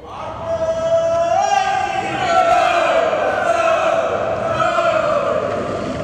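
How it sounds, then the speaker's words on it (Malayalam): Kerala tourism department staff gather around two flower carpets to open an Onam celebration, raising loud sustained cheers and whoops together, a close crowd of voices rising and falling. "പൂക്കളങ്ങൾക്ക് ചുറ്റും നിന്ന് ആർപ്പുവിളികളോടെ ജീവനക്കാർ ഓണാഘോഷത്തിന് തുടക്കമിട്ടു."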